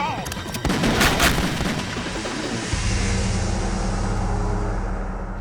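Gunfire from a Marine in the video game Metal Gear Solid 2: a loud burst of shots and booms early on, fading into a lingering rumbling wash of game sound.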